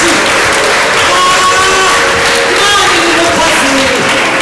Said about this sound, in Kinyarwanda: mutukobere Imana amashyi itorero mutukobere Imana